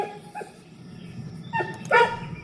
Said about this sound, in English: He's my guard dog.